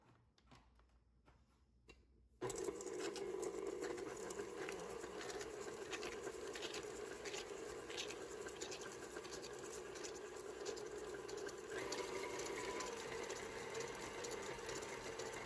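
After a quiet start, an electric mixer kicks on and beats sugar in a bowl with a steady, loud mechanical whir and a rapid rattling patter that holds to the end.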